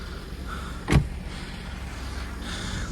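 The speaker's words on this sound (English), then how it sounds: "Leave the window a little open just in case it locks itself." A car's power window is lowered, heard after a single sharp thump or click followed by a steady low motor whir that continues quietly for a couple of seconds, recorded close up during a blizzard.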